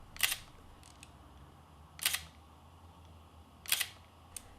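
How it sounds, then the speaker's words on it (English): Olympus PEN F mechanical shutter firing three separate times, roughly two seconds apart, each a crisp, quiet click over near silence, with a softer click at the very end. "Mechanical shutter has a nice sound to it, not very loud."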